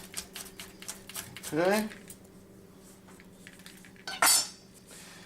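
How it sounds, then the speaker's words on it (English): A knife chops leftover chunks of cabbage for coleslaw, with a run of quick rhythmic taps on a board, a scraping swipe and a final louder clatter, close up, with a brief spoken word. "just give them a little chop with the knife. This is the rocking motion."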